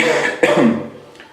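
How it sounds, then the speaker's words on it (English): A single sharp cough close by, with a muffled voiced sound just before and a fading rasp after. "I'm coughing, but I promise you it's not the dust."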